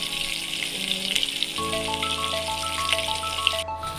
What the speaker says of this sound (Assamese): এতিয়া মই ইয়াত মাছখিনি ফ্ৰাই কৰি লৈছোঁ এখন কেৰাহীত